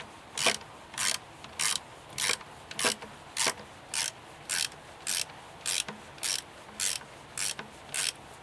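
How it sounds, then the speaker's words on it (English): A hand ratchet fitted with a 10mm socket clicks in short, evenly spaced bursts, about fourteen strokes, while loosening bolts on a 2008 Chevy Colorado with the 3.7 five-cylinder engine during spark plug work. "These require a 10mm socket. I'll just pop this off."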